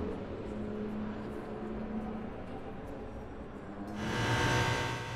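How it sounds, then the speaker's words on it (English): GT3 race car at the Nürburgring 24 hour race, a distant engine drone that swells sharply into a louder roaring pass near the end. "The car blasted back into the race for another stint."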